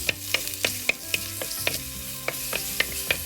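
Chopped shallots sauté in coconut oil with a continuous sizzle punctuated by a regular rhythm of spoon taps and stirring scrapes against the pan, close and alone.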